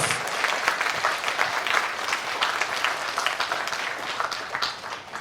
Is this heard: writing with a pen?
no